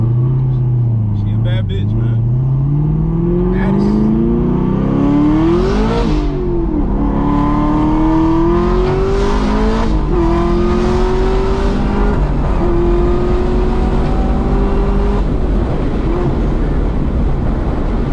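A 1,000 HP Camaro ZL1 engine revs hard against the brake, loud and close, its pitch climbing and swelling in repeated rising pulls, with excited voices talking and exclaiming over it.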